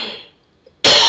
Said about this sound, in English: Yes, that was a cough.